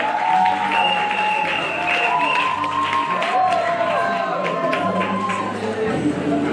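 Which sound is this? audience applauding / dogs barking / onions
audience applauding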